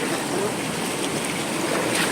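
River water rushing steadily on a slope of Mount Lirang, a dense continuous wash of flowing water that stays loud and close throughout with no voices.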